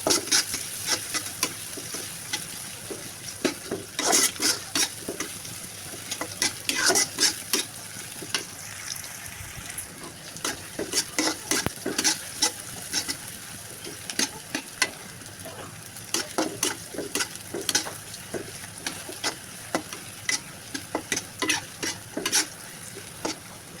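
Pieces of duck meat sizzle steadily in a hot pan for a curry, with frequent scraping stirs and spatula clacks against the metal repeating throughout, close and fairly loud, no voices.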